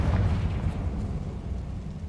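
A Confringo explosion spell in Hogwarts Legacy lets out a dense, low rumbling blast that holds steady for about two seconds and fades slightly, loud and close, with no voices.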